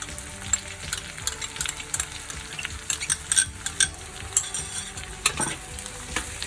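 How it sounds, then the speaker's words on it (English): Chopped garlic sizzles in a pan with browned onions, cooked for vegetarian sausage pasta, as a utensil scrapes and stirs with irregular clinks over a steady frying hiss, close and moderately loud. "we're going to add the chopped garlic"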